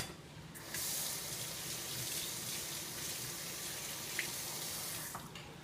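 Water runs steadily from a kitchen tap into the sink for several seconds while hands are washed under the stream, a continuous close splashing hiss with a brief faint knock near the end and no talking.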